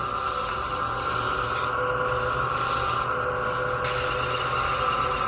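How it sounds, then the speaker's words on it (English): A wooden acorn lid being sanded by hand with 400 grit sandpaper, a steady close rubbing rasp that continues evenly with a couple of brief lighter strokes, no voices. "So we'll just come in with some 400 grit sandpaper."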